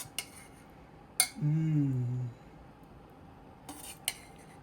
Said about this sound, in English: I'm gonna spoon some chili over it.